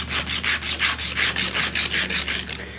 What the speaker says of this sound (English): Now I'll just do some sanding to get that to be smooth